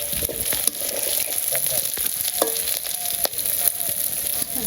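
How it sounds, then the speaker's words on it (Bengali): Fish frying in hot oil while a curry is cooked, a continuous close sizzle and crackle with occasional sharper pops and light stirring, no talk over it. "তোমার মাছ ভাজা হয়ে গেছে,"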